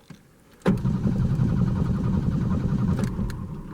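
A 1989 Ford Mustang engine cranks and catches after years unused, then runs loud and steady with a little throttle, rough low rumble close by with no talk.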